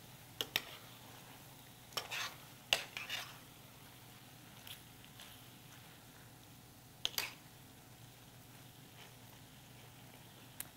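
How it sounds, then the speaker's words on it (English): Peppers stirred into a simmering pan, a few sharp spoon scrapes and clinks spaced across a low steady simmer, quiet and close with no talk. "give it one more stir"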